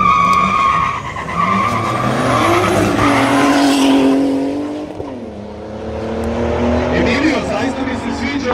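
A turbocharged BMW 3-series street race car, 2.8 turbo with about 290 horsepower, launching at a street race show in Živinice, engine roaring and tires squealing as it pulls away, with a commentator talking over it.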